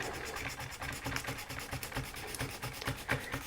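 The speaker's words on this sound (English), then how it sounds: "You just have to keep sanding and sanding until you get the shape." A plastic fender flare on a model car is hand-sanded close up, producing a steady, rhythmic rasping that scrapes back and forth without a break.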